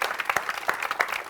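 An audience claps in a quick, uneven patter, with individual hand claps distinct rather than merged, moderately loud and close, with no talk over it.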